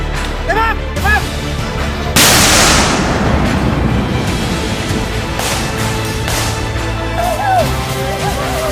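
Military gunfire and explosions from a paratrooper raider infantry battalion on a firing command: loud booming blasts and bursts of shots over a dense rumbling roar, with shouted voices near the start and music underneath.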